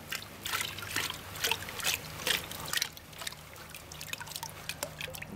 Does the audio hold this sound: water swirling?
yes